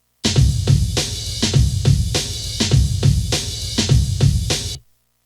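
A one-bar drum loop sampled from a 1967 song repeats with punchy kick and snare hits in a steady groove, loud and alone, then stops cleanly.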